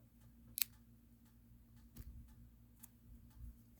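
Scissors snip off a crochet yarn tail on an amigurumi project, giving one sharp close click followed by a few softer ticks over quiet room hum.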